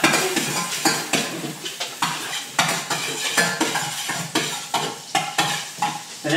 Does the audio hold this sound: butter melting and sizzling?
yes